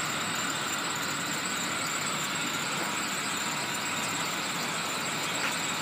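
A 2005 Chevrolet Impala engine runs steadily as the car pulls forward, a constant broadband drone with a faint squeal, close and without voices.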